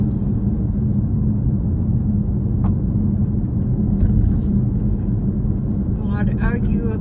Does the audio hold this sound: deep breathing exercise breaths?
no